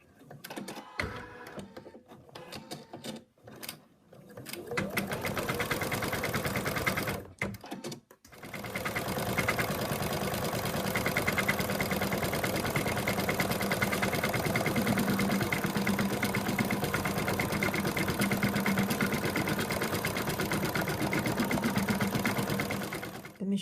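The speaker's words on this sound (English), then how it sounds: "hoop back in the machine, and it's going to stitch out the third and final color" A home embroidery machine stitches out the third and final colour of a Madame Mouse design, joining both sides together: a steady, loud, rapid mechanical needle chatter running continuously after a few brief stops and starts.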